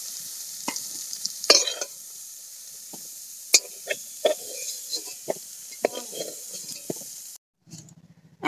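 Cauliflower frying golden in a pan, with soft steady sizzling and frequent clinks and scrapes of stirring, brief quiet near the end.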